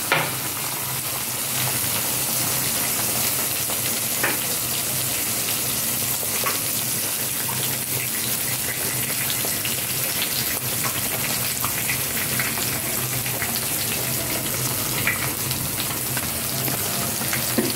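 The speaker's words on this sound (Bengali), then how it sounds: "এবার আমি ডিমটা দিয়ে দিলাম, দুটো ডিম আমি দিয়ে দিলাম" Two eggs sizzle and crackle steadily in a hot pan, a continuous close frying hiss with scattered small pops running for the whole stretch, no talking over it.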